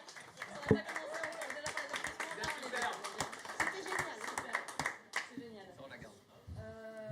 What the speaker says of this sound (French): on peut s'applaudir déjà